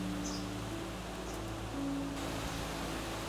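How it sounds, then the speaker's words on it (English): Steady rain falls outdoors near a house as a continuous, even hiss of drops on surfaces, with no voices and a faint tonal hum underneath. "The rain started, so I had to run back to the house with the camera and my computer."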